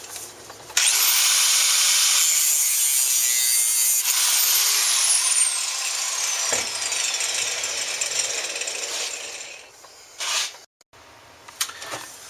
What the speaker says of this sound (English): We're going to cut this header pipe right here, not too far down, because we want to be able to clamp it.